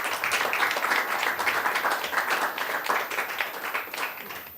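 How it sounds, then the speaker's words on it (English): An audience at student astronomy research presentations claps for a speaker, a steady, moderately loud patter of many hands that continues throughout. "Give another round of applause to this speaker"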